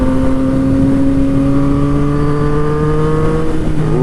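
Aftermarket exhaust on a Yamaha FZ-09 motorcycle revving steadily and loud, its engine tones rising slowly through a continuous close-up drone.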